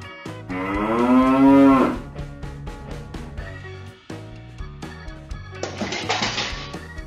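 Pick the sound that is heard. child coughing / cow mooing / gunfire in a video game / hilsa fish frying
cow mooing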